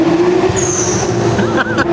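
Nissan Skyline R33 engine pulling hard on a highway with the windows down, a loud steady drone with a rising whine and road rush close by.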